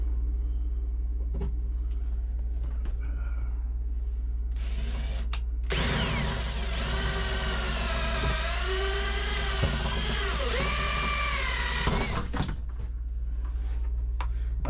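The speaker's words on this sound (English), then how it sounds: "First thing we're going to do is drill out all the rivets" A power drill bores out rivets on cabinet doors in a small casita, a loud high whine with wavering pitch that bursts in for several seconds over a constant low hum, preceded by quieter handling clicks.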